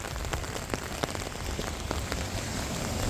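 Heavy rain pours down around a bus on a flooded road, a dense, steady hiss with scattered sharper drops striking the surface throughout.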